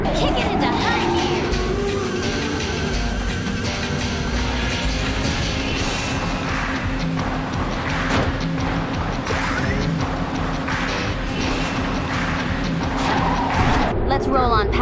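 Race car engine roaring continuously in the Speed Racer video game on the Skorost course, with tire squeals and skids over a dense, steady mix while a voice speaks over it.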